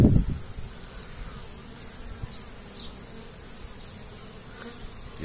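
Honeybees buzz around an apiary on a warm March day of 21°C, their hum steady and close with individual insects passing near, alongside a brief low thump at the start.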